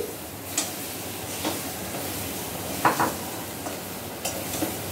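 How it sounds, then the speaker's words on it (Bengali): Pointed gourd pieces stirred into spices frying in a pan, a soft continuous sizzle with a few faint scrapes and clinks of a spatula against the pan, quiet and without talk. "এবার এর মধ্যে পটলগুলো দিয়ে দিচ্ছি।"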